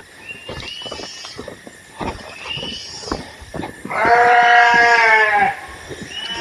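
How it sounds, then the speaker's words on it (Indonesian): Flock of sheep bleating at close range in a rural village near rice fields, with scattered short calls and one long, loud, wavering bleat in the middle. "Waduh, berisiknya ini kawan-kawan. Banyak domba ini."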